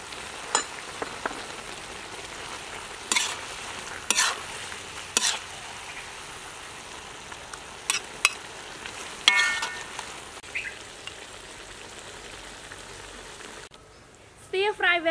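Vegetables and crispy pork belly stir-fry in a pan, with a continuous crackling sizzle and repeated sharp clanks of a utensil hitting the pan, ending in a brief louder clatter.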